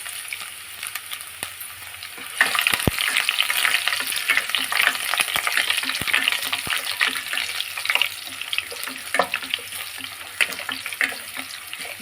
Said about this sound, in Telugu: వెల్లుల్లి కొద్దిగా వేగితేనే మంచి టేస్ట్ వస్తుందండి పచ్చడి